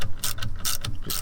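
A ratchet tightens the alternator bracket bolt on a Bongo van, giving several quick, close, loud bursts of clicking pawl strokes in rapid succession.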